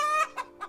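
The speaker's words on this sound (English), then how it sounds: "the chicken gets up and goes about its chicken business" A chicken gives a short cluck followed by two quick softer clucks, close and clear against silence.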